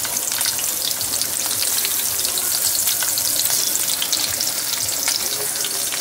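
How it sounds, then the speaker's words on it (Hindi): Green chillies sizzle and crackle steadily in hot oil for Bombay duck chutney, a loud, continuous frying hiss with no voices. "तेल गरम होने के बाद इसमें ऐड करना है चिल्ली, हरा मिर्ची ऐड करो"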